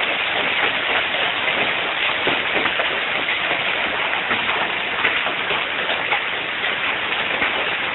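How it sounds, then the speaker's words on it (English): Dense, continuous clatter of large hailstones pounding down during a heavy hail storm with no rain, a loud uniform roar of countless impacts lasting throughout without voices. "I don't think there's any rain. There's nothing but hail."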